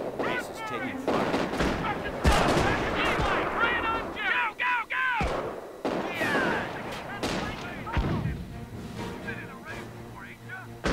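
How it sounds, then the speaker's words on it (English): Gunfire and artillery from a Normandy village battle in Company of Heroes fill the scene with repeated cracks and heavy booms, while radio-style unit voices speak over the din. "Base is taking fire."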